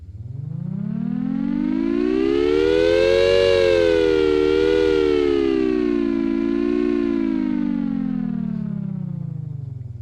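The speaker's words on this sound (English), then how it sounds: "That just sounds like a siren." A mechanical linkage produces a loud, continuous siren-like wail that rises in pitch, wavers at the top, then slowly falls away over about ten seconds, with no voices.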